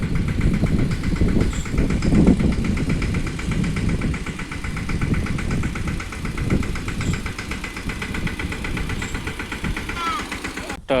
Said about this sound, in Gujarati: ટ્રેક્ટર ભરાઈને આવી ગયું છે આખું